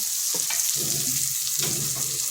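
Pointed gourd (potol) fries in a pan with a steady, bright sizzle of hot oil, broken by a few soft stirring knocks and scrapes, heard close up.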